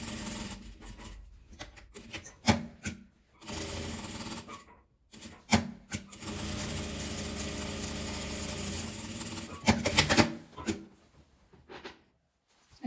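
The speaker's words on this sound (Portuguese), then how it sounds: "vou costurar em volta e dar outro retrocesso aqui no final" Sewing machine stitching around the edge of a fabric pincushion, a steady mechanical whir that runs in bursts with short pauses and stops, loud and close, with no talking.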